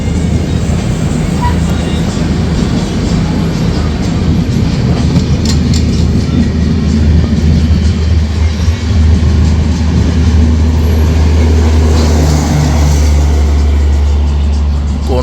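A train passes at night near a halt, a loud continuous rumble with deep low drone and clattering wheels, steady throughout with faint rhythmic clicks of rail joints.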